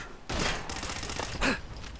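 Gunfire in the video game Fallout 4: a loud, rapid volley of shots fired in a quick burst, then a second, sharper crack, with no talking over it.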